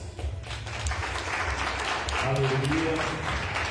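A church congregation applauds during an evening worship service, a steady wash of clapping lasting several seconds, with voices calling out over it near the end.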